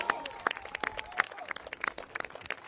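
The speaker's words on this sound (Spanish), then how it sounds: "Así es que un aplauso, por favor." Scattered hand claps from a small audience at a Chilean presidential campaign event, uneven and moderately near, with no voices over them.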